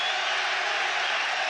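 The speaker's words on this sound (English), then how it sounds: "Well, the crowd is shouting terrible." Boxing arena crowd at a Mexican super bantamweight title fight, a dense, steady roar of many voices shouting without pause throughout.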